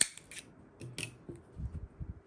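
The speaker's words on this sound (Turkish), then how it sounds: "Biraz ipim kalacak şekilde kesiyorum." Scissors cutting crochet yarn up close: a few quick, crisp snips at the start, then soft handling noises of the yarn.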